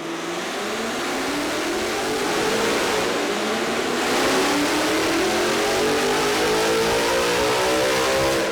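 Supercharged 2019 Ford Mustang GT V8 at the track, revving at full throttle through a long rising pull with a loud, steady roar and climbing pitch, close and continuous.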